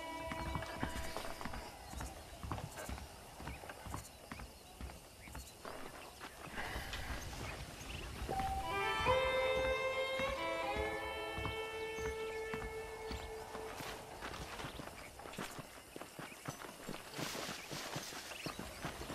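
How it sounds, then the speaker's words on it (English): Horse hooves clip-clop in an irregular walking rhythm in the Red Dead Redemption video game, close and clear throughout, with a brief rising musical flourish partway through. "The horses are saddled up over here."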